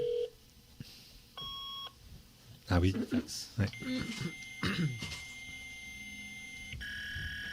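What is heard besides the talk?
dial-up modem connecting, beeps and dial tones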